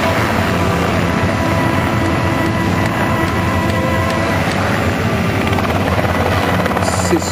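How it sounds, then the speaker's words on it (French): A very light Robinson helicopter flies nearby, its rotor chop and engine drone loud and constant throughout with no talking. "le Robinson est un hélicoptère extrêmement léger, d'un pilotage extrêmement pointu"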